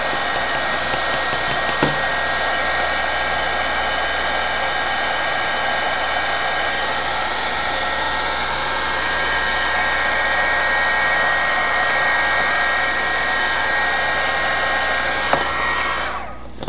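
A handheld heat or drying tool blows air over a mixed media paint layout: a loud, steady, close whirring roar that runs almost unbroken, then cuts off at the very end, with no talking.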